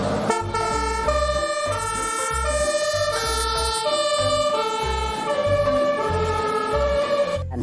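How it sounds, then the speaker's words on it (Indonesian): Toy fire truck siren playing a steady electronic wailing melody, loud and close, with a rhythmic pulsing underneath that continues throughout with no voices. "ternyata ini mobil pemadam kebakaran"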